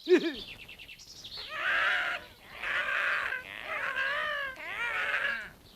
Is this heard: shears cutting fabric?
no